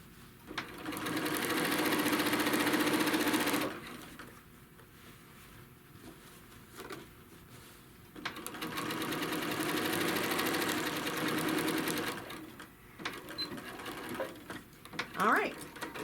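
A sewing machine stitches a crochet bag panel in two steady bursts of rapid whirring, close and loud, separated by a quieter pause with faint handling noises.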